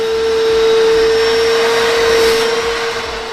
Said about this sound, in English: This vacuum does suck.